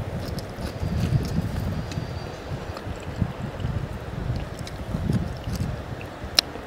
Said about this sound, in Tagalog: Nandito ako sa tabing dagat